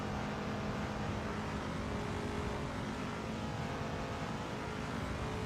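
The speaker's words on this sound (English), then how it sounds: "Hear the engine, the V8 engine roaring down the straight as he comes up to the roller coaster." A V8 race car roars along the straight at Virginia, a loud, steady, broadband engine drone that holds throughout without any talk.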